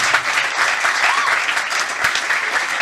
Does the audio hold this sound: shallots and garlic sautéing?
no